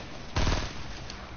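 Gunfire in the video game Fortnite: one loud, close burst of quick shots that trails off into a softer echoing rumble.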